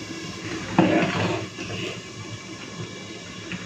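A metal lid is set onto a cooking pan on a low gas flame while spices are being stir-fried for a fish-bone chorchori: a single clanking knock, then a soft, steady sizzle continues alone.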